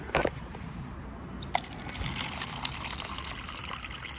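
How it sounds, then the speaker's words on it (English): Water trickling and splashing steadily from a drink water stand, a soft continuous running stream close by with a couple of brief clinks. "It's a pretty cool water stand right here."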